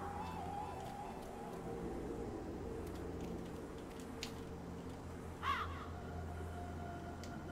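A bird caws once, briefly, in the snowy temple area of the video game The Mark of Kri, a short bright call rising over a steady droning game ambience with low hum.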